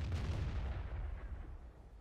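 A tank main gun fires in World of Tanks, FV304 in play, a heavy booming report with a deep low rumble that fades off over two seconds, heard alone with no talk.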